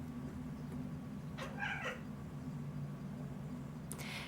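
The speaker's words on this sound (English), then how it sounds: "If you hear random chatters from a cat, that would be my cat" A cat meows once over steady low background hum, then a brief higher chirp near the end; fairly close, otherwise quiet.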